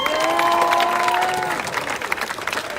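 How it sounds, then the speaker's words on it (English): A crowd at a Black Lives Matter protest rally in Rochester applauds and cheers, dense clapping under a few sustained voices and whoops, loud at first and thinning toward the end. "So let's just give that a round of applause."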